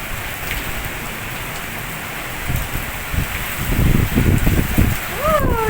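Rain pouring down in Dubai during a rare storm, a constant close hiss of drops on surfaces that swells louder toward the end, with people's voices heard over it.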